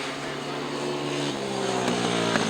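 A BSA C15 SS80 motorcycle races on a grass track, its engine droning loudly and steadily with rising and falling revs, alongside other machines in the background.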